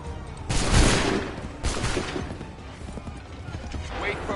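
Musket volleys in Assassin's Creed 3 Remastered, two loud crashing rounds of massed gunfire, each ringing out before the next volley cracks about a second later, with battlefield ambience underneath.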